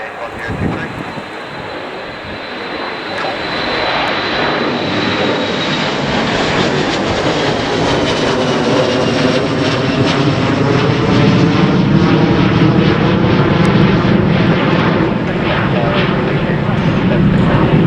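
A fixed-wing airplane at Leeds Bradford Airport on a windy day, its engines building from a distant whine into a loud, sustained roar that fills the whole stretch, with gusty wind buffeting the microphone.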